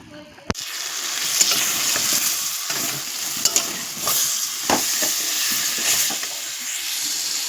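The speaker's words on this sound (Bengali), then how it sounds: "এতে আমি একটু হালকা হালকা করে কষিয়ে নেব" Ash gourd and egg curry being stir-fried in a pan with a little water, giving a steady sizzle with repeated scraping strokes of a spatula, close and moderately loud.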